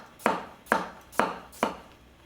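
A Katsushige Anryu 240mm gyuto knife chops on a cutting board, four crisp, evenly spaced knocks, each a sharp close strike with a short fading tail.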